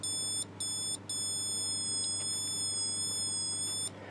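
A small toy capacitive touch organ sounds bright, piercing electronic tones: two short chirps, then one long held note with slight pitch wobble, close and clean over faint background hum.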